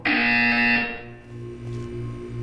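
A loud electronic buzzer from the video game Portal 2 sounds in one sustained tone for about a second, then lingers as a quieter ringing hum with no one talking.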